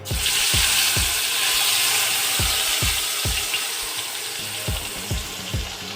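Tomatoes and onions fry with mustard seeds and cumin in a loud, constant sizzle, punctuated by regular low thumps from stirring throughout.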